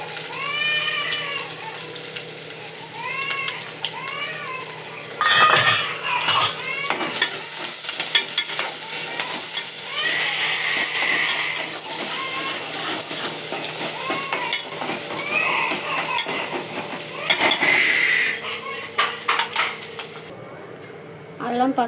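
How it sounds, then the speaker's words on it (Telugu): Onion, green chilies and curry leaves fry in a pan with a steady sizzle and repeated stirring scrapes, while birdsong and other household sounds play in the background. "ఉల్లిపాయ, పచ్చిమిర్చి, కరివేపాకు కొంచెం గోల్డ్ కలర్ వచ్చేదానికి వేయించుకోవాలి"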